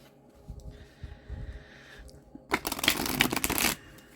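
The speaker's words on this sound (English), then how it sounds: "I'll give this deck a couple more shuffles" Soft rustling handling noises give way to a crisp riffle of a card deck being shuffled, a fast ripple lasting about a second, close and clear.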